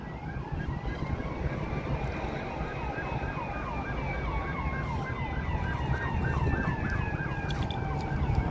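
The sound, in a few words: ambulance siren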